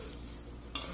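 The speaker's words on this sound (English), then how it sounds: "Just mix it and mix." Stuffed pepper filling being stirred with breadcrumbs for a slow cooker dish, a brief soft scraping and squishing mix, close and quiet, ending in a slightly louder scrape.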